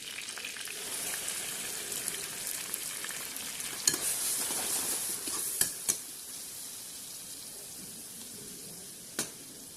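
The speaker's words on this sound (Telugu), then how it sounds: "పచ్చిమిరకాయలు వేగుతున్నాయి కదా" Green chillies frying in oil for a drumstick curry, a steady close sizzle with occasional sharp pops and clinks of a utensil against the pan.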